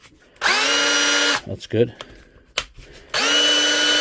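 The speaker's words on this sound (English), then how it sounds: "So we'll try in ordinary drill mode first." A DeWalt drill in ordinary drill mode, freshly repaired, runs at close range in two loud, steady bursts of about one second each. A brief spoken remark falls between them.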